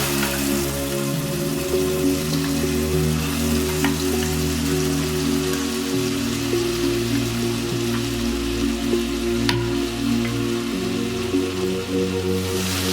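Puti fish for a Bengali mustard curry fries in hot oil as mustard paste goes in, a steady close crackling sizzle running without pause and with no talking.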